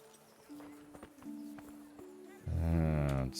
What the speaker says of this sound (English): Hit the brakes on the horse.